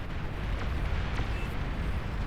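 Artillery fire rains down in a Beyond All Reason 8v8 battle, a dense, continuous roar of rumbling blasts and overlapping explosions with no pause between them.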